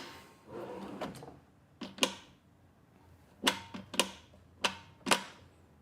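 Wooden kitchen galley drawer being lifted and adjusted into place, giving a run of sharp knocks and clunks, some in quick pairs, close and fairly loud with no talking.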